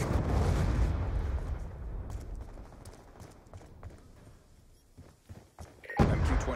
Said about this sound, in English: Friendly hellstorm missile inbound.